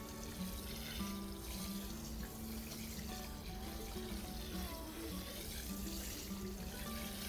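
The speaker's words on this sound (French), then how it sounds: "Je vais mettre 2 ou 3 arrosoirs sur cette zone pour que ce soit bien imbibé." Water pouring from watering cans onto a garden bed, a steady, even splashing that runs continuously at close range with no talk over it.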